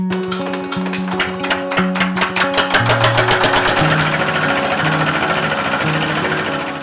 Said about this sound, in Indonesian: Lalu kulit dan biji kopi dipisahkan dengan mesin khusus